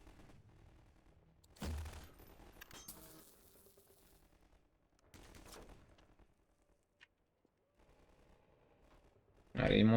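Gunfire in the video game Half-Life 2, with a few short bursts and single shots among quieter gaps and then a loud burst at the end, while players talk quietly.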